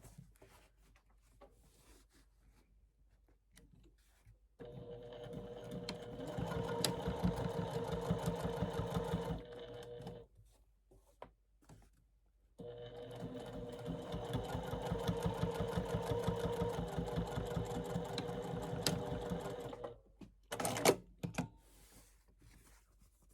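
A sewing machine stitches a quarter-inch seam through batik canvas and cotton, running in two sustained bursts of steady, close mechanical whirring with a pause between them and some handling noise at the end.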